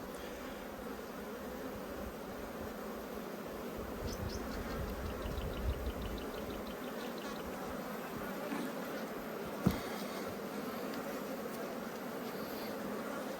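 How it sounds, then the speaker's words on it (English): Honeybees buzz steadily around an open hive during an inspection of a strong, crowded colony, a dense continuous drone close by with a brief sharp knock partway through. "All these bees, it'll reduce the possibility of them swarming."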